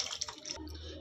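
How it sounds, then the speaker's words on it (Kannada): Water poured into a vessel of cut mushrooms for washing: a short, faint splash lasting about half a second, followed by a quiet low hum. "ನೀರು ಹಾಕ್ಕೊಳ್ಳೋಣ"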